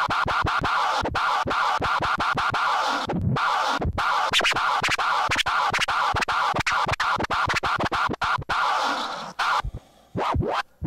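Rapid DJ scratch bursts triggered from the performance pads of a Pioneer DDJ-REV1 Serato controller, loud and choppy with short stuttering strokes throughout, thinning into a few isolated scratches near the end.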